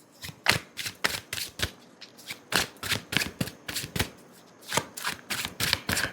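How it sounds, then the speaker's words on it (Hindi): A tarot deck is riffled and shuffled by hand in quick, crisp flutters of card edges, close and fairly quiet, repeating steadily with no voice over it. "this is a tarot deck, और इस टैरो डेक से मैं 4 कार्ड्स पिक करने वाली हूँ आप लोगों के लिए"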